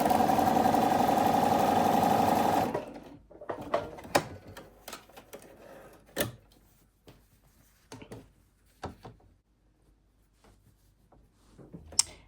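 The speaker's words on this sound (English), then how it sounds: "I'm gonna sew that together and then I will come back to you" A home sewing machine runs steadily for a few seconds stitching scrappy quilt pieces together, then stops, followed by quiet handling clicks and taps of fabric and tools nearby.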